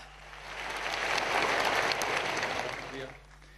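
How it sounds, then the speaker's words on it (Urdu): A crowd at a ceremony claps steadily, swelling to a full round of applause and then tapering off near the end, over a low background hum. "آپ کی بھرپور تالیوں میں رانا مشہود احمد خان صاحب۔"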